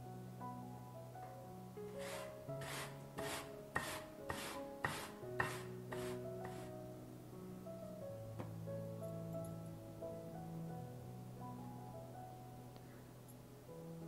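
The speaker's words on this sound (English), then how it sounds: "Take 3 apples, remove the skin and grate it just before you are ready to cook them." Peeled apples are grated in a quick run of about ten rhythmic rasping strokes, fairly close and over soft background music, and the grating then fades out.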